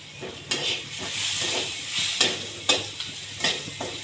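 Chickpea greens being fried and stirred in a pan, a steady close sizzle broken by several sharp scraping stirs of a spatula, with no talking.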